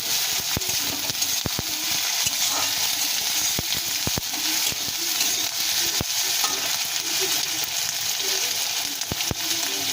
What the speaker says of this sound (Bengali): এবারে আদা রসুনের পেস্টটা দিয়ে দেবো দিয়ে ফেরিয়ে আবার নাড়াতে হবে